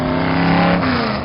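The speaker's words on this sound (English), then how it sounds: "It has a very aggressive sounding exhaust system." A LoneStar Classics car with an aggressive exhaust system revs loudly up close, a deep sustained engine roar that rises slightly then eases over about a second.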